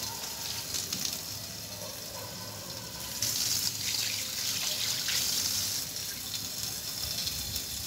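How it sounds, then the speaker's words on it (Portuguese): Tap water runs steadily into a sink as hands are washed beside a wood-fired outdoor kitchen, the flow growing louder and brighter partway through, with no talking over it. "Deixa eu lavar minhas mãos."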